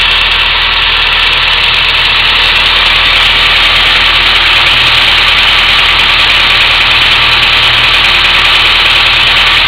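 A car engine idles steadily and close up, a constant droning hum with a faint vibration that holds level throughout, with no voices over it.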